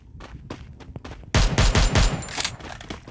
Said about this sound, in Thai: ยิงแป๊กแป๊ก